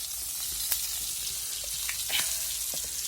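Short mackerel (pla thu) frying in a pan over a wood fire, a steady close hiss of bubbling oil throughout, with faint pops and crackles scattered across it.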